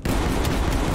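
Streetsweeper automatic shotgun firing in Call of Duty Cold War, a dense, loud burst of rapid blasts packed into under a second with no talking.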